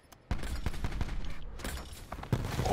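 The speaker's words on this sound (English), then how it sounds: "He's shooting me." Stingray gunfire in a Nuke match comes as rapid automatic bursts, loud and close. A quick series of cracking shots builds over a couple of seconds with no voices over it.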